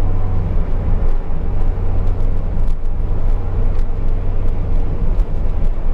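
A car driving with a steady, loud low engine and road rumble that continues throughout, with no voices over it.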